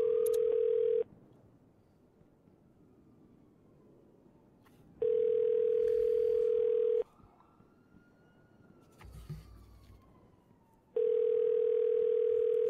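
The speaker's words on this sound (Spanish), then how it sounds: "sigo escuchando el tono de llamada" A phone ringing tone in the video game GTA V, heard as a steady electronic tone in long on-off bursts of about one to two seconds, separated by quiet gaps with faint background sounds.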